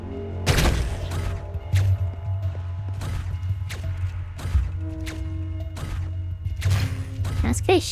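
Enemy shots and hits in Hyper Light Drifter, a series of sharp separate impacts spaced about a second apart over a low steady game hum, with some tonal game effects between.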